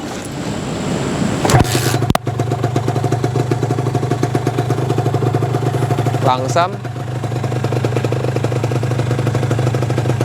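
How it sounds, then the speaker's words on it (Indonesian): A Kawasaki Ninja 150RR with its stock exhaust starts after a couple of sharp clacks and settles into a steady, rapidly pulsing two-stroke idle, loud and close, while a voice speaks briefly. "Suara knalpot standar lah ya"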